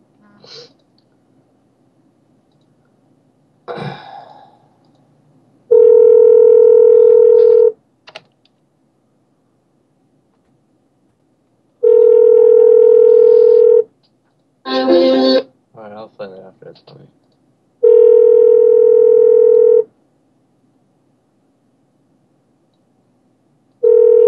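A telephone line tone after a call is hung up: steady, loud tone bursts about two seconds long, repeating with gaps, with brief rustles and noises in between.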